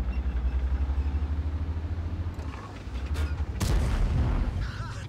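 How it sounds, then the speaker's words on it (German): Artillery shells striking in World of Tanks gameplay, a sharp heavy boom landing over a continuous rumbling tank engine drone, followed by a louder sustained rumble. "Aber die Arti mit fast 600 Damage knallt sie hier rein."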